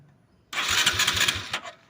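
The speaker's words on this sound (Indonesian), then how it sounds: "Kita akan coba hidupkan ya motornya." A Honda Supra 125 motorcycle with a fault that makes it stall is electric-started, cranking briefly and then catching into a loud close idle that settles after about a second.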